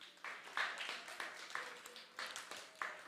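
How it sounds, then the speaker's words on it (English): Parents at an ISKCON Dallas temple gathering clap for themselves in a modest round of applause, a few quiet, scattered claps that rise and fall in small bursts, faint and somewhat distant. "So please give yourselves a huge round of applause"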